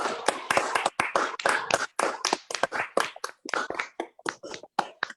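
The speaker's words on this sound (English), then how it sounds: "give a big round of applause to today's speaker, Mr. Shiv Khera." A small audience claps for the speaker at a management session, a close, sparse, uneven patter of individual hand claps lasting about five seconds with brief gaps between bursts.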